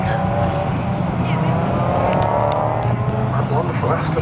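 Race cars, including an Audi and a Ford Escort, roar past at Brands Hatch, a loud, dense engine blare that swells and fades across the track with no talk over it.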